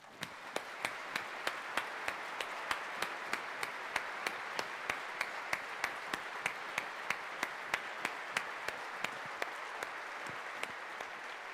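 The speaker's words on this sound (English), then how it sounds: "Please join me in applauding the staff of the university." A graduation audience at an Edinburgh University engineering ceremony applauds the university staff, a sustained wash of clapping from a large crowd with a few sharper individual claps standing out at a fairly regular pace.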